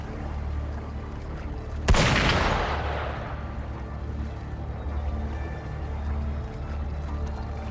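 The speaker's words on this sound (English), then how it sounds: "Gunfire!" In the video game Wuthering Waves, a single sharp gunshot-like boom cracks out, then a rumbling, washing decay fades over a few seconds. Low ambient game sound continues underneath, with no voices.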